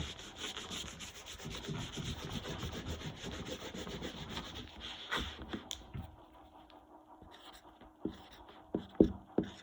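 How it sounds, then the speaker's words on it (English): Writing being erased from a board during a math lesson, a steady close scrubbing rub that breaks into a few short, sharper strokes toward the end, with no talking. "Let me erase real quick."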